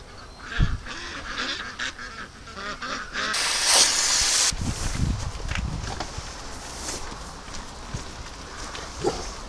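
Ducks at a windy lake give scattered honks and quacks close by, over a rushing wind and a burst of loud hiss partway through.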